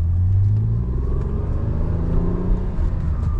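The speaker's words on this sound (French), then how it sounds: "le bruit du V6 c'est quand même très agréable" A Renault Avantime V6 driving, a steady low engine rumble with road noise under a smooth, unbroken drone at moderate level.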